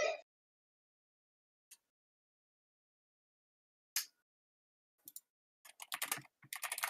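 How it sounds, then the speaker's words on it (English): Computer keyboard typing during a live voice chat stream, heard as short scattered click bursts that cluster into a quick run of keystrokes near the end, close and fairly faint with no talking. "He's lit up and you can hear him typing."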